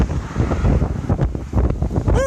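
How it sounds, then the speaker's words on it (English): Strong wind buffets the microphone during an outdoor walk on the Highfield Grange Loop, heavy low gusty rumbling that surges and fades throughout, with a brief whistle-like tone at the end. "it's windy."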